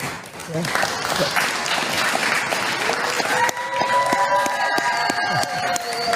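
A large crowd at a political event claps and cheers loudly in a sustained burst. The applause softens and a speaking voice comes through over the fading crowd noise.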